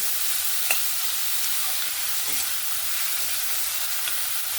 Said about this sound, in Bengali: পেঁয়াজগুলো দিয়ে ভালো করে একটু নাড়াচাড়া করে নিচ্ছি